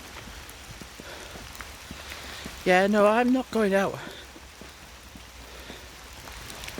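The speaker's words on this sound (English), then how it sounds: "it's absolutely incredible how hard this rain is coming down." Heavy rain pours down steadily, a constant dense patter of drops on surfaces all the way through, while a person briefly speaks over it partway in.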